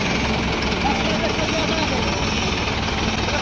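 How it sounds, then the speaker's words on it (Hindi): Tractor engine running in neutral with a PTO trolley coupled, a steady droning idle that stays constant throughout at close range. "ये देखो सिर्फ उसके सारे ट्रैक्टर चल रहा है"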